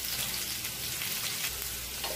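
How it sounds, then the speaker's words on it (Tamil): A finely chopped large onion with a green chilli sizzles in hot oil for an egg curry, making a continuous crackling fry with faint scattered pops, close by and with no talking. "வெங்காயம் நல்லா சாஃப்டா வதங்கணும்."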